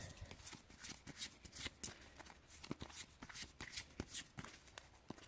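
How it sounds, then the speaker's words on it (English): A Yu-Gi-Oh card deck being shuffled by hand at close range, a steady run of crisp riffling and flicking bursts with brief pauses between them, with no one talking. "So let's shuffle things up"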